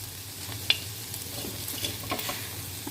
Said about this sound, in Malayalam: ഒരു പിടി നാളികേരം, കുറച്ച് കാശ്മീരി ചില്ലി പൗഡറും കൂടി ഇട്ടിട്ട് ഇതുപോലെ നന്നായി ഇളക്കി മുരിയിച്ചു കൊടുത്തു.